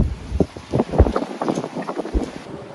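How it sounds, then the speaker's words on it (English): Gusty wind buffets the microphone outdoors, rumbling in low bursts with a steady hiss behind it and no talking. "excuse the wind."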